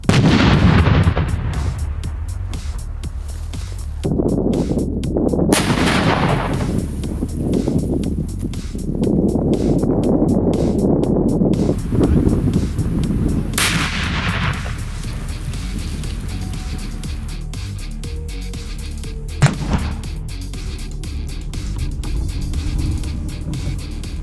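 Detcord wrapped around tree trunks is blasted to clear a landing zone, set off electrically from several hundred meters away: heavy booming roars and sharp cracks rumble and echo in a long, loud, dense wash before fading out.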